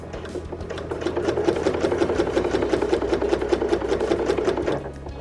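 A sewing machine stitches quilted coasters in a fast, even, rattling run that holds steady and loud before winding down near the end.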